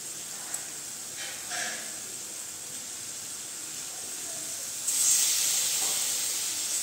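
Eggs going into a hot spice mixture in a pan give a steady, moderate hiss of sizzling, which swells louder and brighter about two-thirds of the way through.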